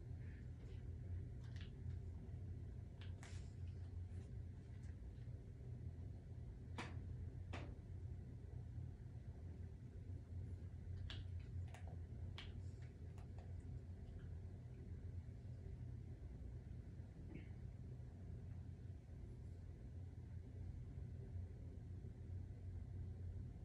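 A Ford F-750 truck engine idles in the snowy SnowRunner video game, a steady low rumble running quietly and unbroken, with faint brief clicks scattered above it.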